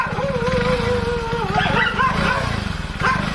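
Dogs barking and yelping in uneven bursts, with whining tones and a steady engine-like drone underneath.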